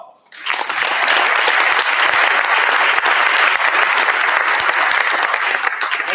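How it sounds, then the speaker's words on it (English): Sustained, dense applause from a large conference audience welcoming a professor to the stage, starting abruptly and continuing steadily as a loud, even wash of many hands clapping. "Give him a big round of applause"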